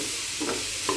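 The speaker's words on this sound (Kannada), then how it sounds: "ಮಸಾಲ ಪೌಡ್ರ್ ಹಾಕಿ ಚೆನ್ನಾಗಿ ಮಿಕ್ಸ್ ಮಾಡಬೇಕು" Maggi masala powder being stirred into vegetables in a hot pan: a brief soft scraping stir over a steady background sizzle, with a couple of light scuffs, no voices.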